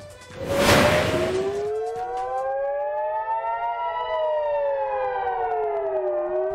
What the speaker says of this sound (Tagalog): Sa Israel, ang pag-alingaw-ngaw ng sirena may kaakibat na pangamba.